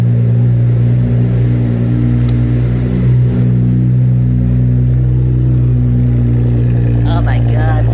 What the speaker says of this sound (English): Oh my god, listen to that cold start